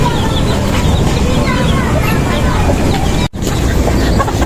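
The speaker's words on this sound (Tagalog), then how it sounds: "Ang ganda inahin yan." A mother hen clucks among a flock of poultry, chicks and turkeys around, against a steady busy background of farmyard noise, with a brief dropout near the end.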